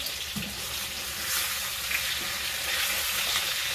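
Crust sizzling and frying steadily in a hot pan, a dense continuous crackle heard up close with no talk.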